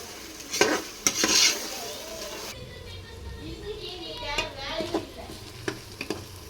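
Chicken biryani masala being sautéed and stirred in a pot, with scraping and soft sizzling strokes at a steady rhythm, a few louder clinks of the spoon early on, close and moderately loud.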